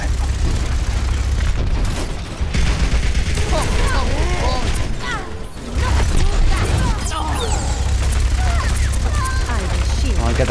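Rapid weapon fire and booming impacts in the Overwatch video game with a no-gravity mode, dense continuous shooting bursts up close with a brief lull, while a player talks over it.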